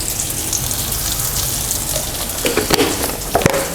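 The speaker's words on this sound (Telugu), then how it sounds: "సో దట్ సాల్ట్ మొత్తం ఆయిల్ అంతా పీల్చుకొని త్వరగా ఫ్రై అవుతుంది" Onions frying in hot oil with a pinch of salt give a continuous close sizzle with soft crackles and a few sharper pops toward the end.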